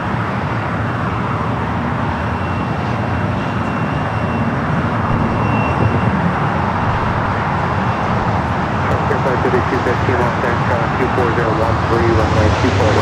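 A cargo airplane rumbles at Los Angeles LAX airport, a broad steady engine roar that holds at a constant loud level throughout, with traffic noise mixed in.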